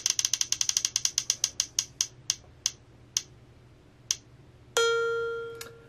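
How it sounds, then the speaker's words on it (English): A prize wheel spun by a button press clicks rapidly past its pointer, the ticks slowing and spreading out until it stops, followed by a bright ringing chime. "the next step is just to push the button and spin the wheel"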